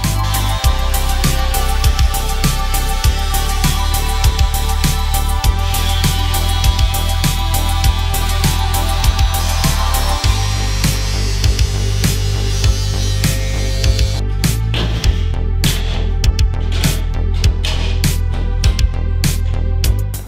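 A power tool cuts steadily through sheet metal as a firewall section is removed from an HX One Tonner, a continuous close grinding whine with rapid rhythmic chatter, shifting pitch partway through.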